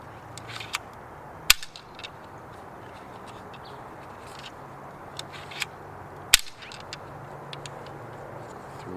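A Nerf N-Strike Slingstrike toy blaster fires two sharp, snapping shots a few seconds apart, with fainter clicks and handling noises between them over a quiet background.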